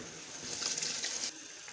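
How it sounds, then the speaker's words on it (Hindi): Rice tipped into a pot of boiling water for vegetable biryani, a brief soft pouring rush and splash over bubbling water, faint and close. "पानी में बॉयल आ गया है, अब इसमें ऐड करेंगे चावल।"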